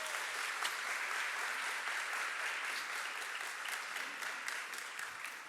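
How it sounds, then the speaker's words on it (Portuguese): Church congregation at an Easter service claps loudly and steadily, a dense, sustained wash of applause from many people throughout. "aplaude bem forte Jesus"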